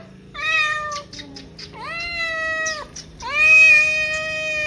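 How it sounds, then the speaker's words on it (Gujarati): A cat meows three times, loud and close, each call long and drawn out, with short pauses between them and no voice under the calls. "તારે કોથળી ખખડાય એટલે તરત કે મ્યાઉ મ્યાઉ કરે"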